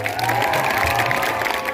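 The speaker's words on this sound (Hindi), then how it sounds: "एक बार गांव के नाम की जोरदार ताली मारिए" Applause and cheering from a crowd at a village wrestling fair (dangal), steady clapping that carries on through the whole short stretch with no voice over it.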